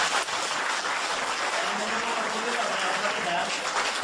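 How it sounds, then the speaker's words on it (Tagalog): A crowd claps steadily, a dense wash of applause that holds at an even level for several seconds. "Palakpak naman yan."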